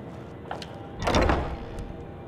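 A heavy door in Skyrim grinds open with a single scraping, rumbling sweep lasting about half a second, moderately loud over quiet ambient game noise.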